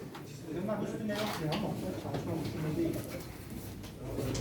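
Pigeons coo softly at a pigeon auction, low murmuring calls repeating under a busy crowd, with people talking and faint clinks of dishes in the background.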